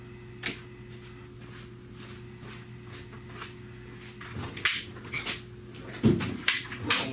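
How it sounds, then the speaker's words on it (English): Long drawer of a shop tool chest sliding open or shut during ball joint and wheel bearing work on a Chrysler Sebring, heard as a few rattling, scraping bursts near the end over a steady background hum. "Long drawer."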